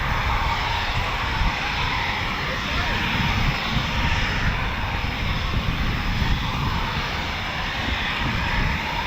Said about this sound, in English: So more Typhoons to go out